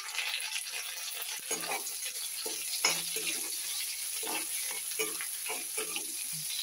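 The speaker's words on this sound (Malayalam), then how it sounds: "സവാള നന്നായിട്ട് വഴറ്റിയെടുക്കാം" Chopped onion sautés in a hot pan for a Kerala potato mezhukkupuratti, a steady soft sizzle broken by repeated scraping stirs of a spoon, close and moderately quiet.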